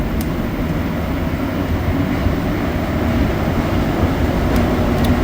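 Montreal Metro train running between Sauvé and Crémazie stations, a steady rumbling roar of wheels and motors in the tunnel with faint high clicks, no speech.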